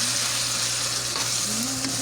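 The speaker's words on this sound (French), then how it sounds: "on va tourner pour que ça puisse cuire ensemble" Tuna and vegetables sizzle steadily in a hot pan while being stirred, a continuous bright frying hiss with a low hum beneath and occasional soft scrapes, no voices.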